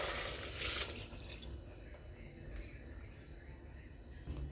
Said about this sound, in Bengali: এইবার এতে আমি জল দিয়ে দিচ্ছি।